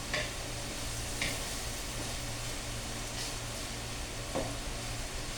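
Shrimp paste (alamang) being sautéed as ginisa in a pan gives a steady sizzle with occasional light utensil clicks and scrapes, over a low background hum.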